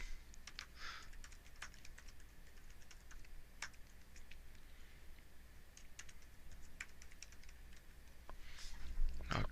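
Fingers tapping out a username on a computer keyboard, a quiet patter of separate key clicks in small bursts over a low room hum, with a sharper clatter at the very end.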